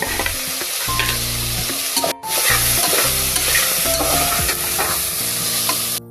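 Green chillies and bay leaf sizzling in hot oil for a veg pulao, a loud, dense, continuous crackle close by with stirring scrapes and a brief drop in the middle.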